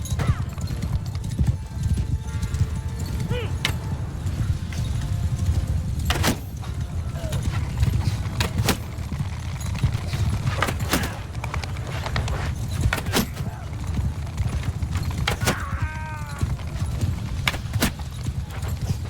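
Cavalry horses in the Mount & Blade 2: Bannerlord battle game, with continuous hoof clatter, occasional neighs and sharp impact clicks over a low rumbling battle bed.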